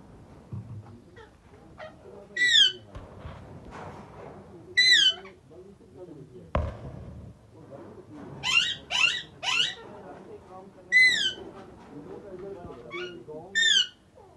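Parrots in a rooftop breeding setup with nest boxes, giving sharp repeated squawks and calls scattered throughout, some in quick clusters, over a low background with occasional handling noises.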